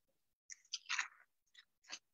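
Crunchy plastic bags holding yarn being opened, a few quiet crinkling rustles in short separate bursts with pauses between, close and faint.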